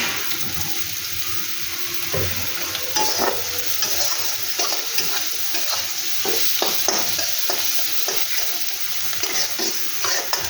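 Onions fry in a little oil in a pan for an egg bhurji curry, with a constant close sizzle and frequent clicks and scrapes from stirring.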